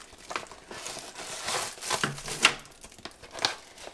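A fancy little plastic Ziploc-style package bag being handled, soft crinkling and rustling with a few sharper crackles, close and fairly quiet.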